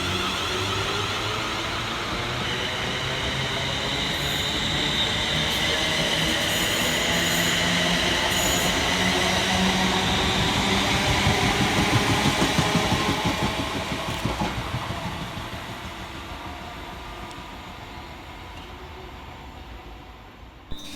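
Scotrail Class 380 electric multiple units pulling out of Paisley Gilmour Street station, a loud steady roar of wheels and traction motors with rising and falling rumble and faint squeals, swelling midway then easing off as the trains move away.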